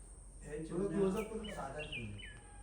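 Sparrows chirp outdoors in a rural village, their short high chirps faint and scattered behind a person speaking nearby.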